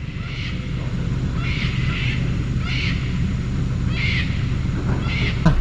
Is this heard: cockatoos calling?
yes